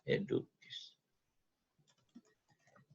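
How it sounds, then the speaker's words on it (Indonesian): Soft, irregular clicks of typing text on a computer keyboard, faint and close, following a brief stretch of talk at the start. "Misalkan kita langsung saja ketikkan tulisan"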